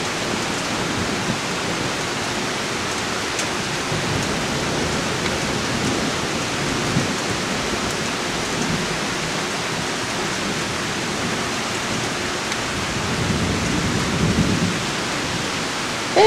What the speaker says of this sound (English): Very pretty up here when it rains.